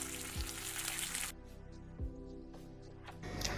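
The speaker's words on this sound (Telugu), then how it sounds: "ఆలుగడ్డలు వేస్తున్నా" Potatoes hit hot oil with onions in a pan for a Telangana-style chickpea and potato curry, giving a loud bright sizzle that drops after about a second to a softer, steady frying crackle with light clinks.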